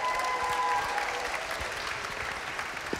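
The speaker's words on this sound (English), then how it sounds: "I want a big applause again for our orchestra and our choir." A concert audience applauds an orchestra and choir in Davis, California, a steady, even wash of clapping filling the hall for the whole stretch, with a faint sustained tone lingering at the start.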